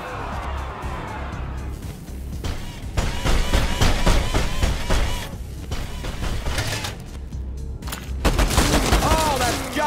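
Rapid bursts of video game gunfire from ShowGunners crackle and rattle in dense volleys, with mechanical clanks and short booms between them, loud and continuous, while a voice talks over parts of it.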